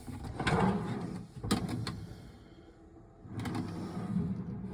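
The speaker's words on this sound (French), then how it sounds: "Nous avons quelques tiroirs avec les protections pour la route." Drawers in a converted Fiat Ducato L4 H2 campervan sliding and knocking shut, a few soft clunks and rattles at close range, fairly quiet.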